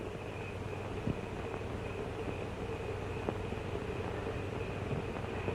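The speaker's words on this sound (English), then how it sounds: "if you hold your breath, you can hear the train all the way to Kentucky" A distant train rolls through a moonlit small-town night, heard as a steady, faint, far-off rumble with a few soft clanks, and no voices.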